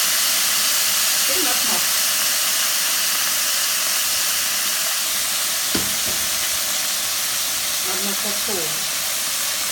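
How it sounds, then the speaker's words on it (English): Broth stock hitting a hot skillet while Cajun shrimp cook, giving a steady, loud hissing sizzle that runs throughout with a few brief crackling bursts, under a short spoken remark. "So the stock of broth is being added. That's why you are hearing that."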